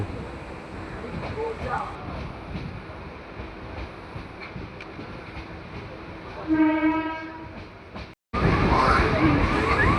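A suburban train from Majerhat to Barasat rumbles along near Prinsep Ghat with continuous rail noise, then a sustained horn blast sounds partway through, followed by louder clattering after a brief cut.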